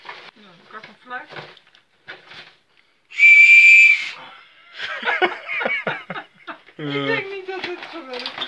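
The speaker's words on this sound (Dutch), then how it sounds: "Ik had een fluit." A loud, single steady whistle blast lasting under a second sounds aboard a sailboat, with talking and laughter before and after it.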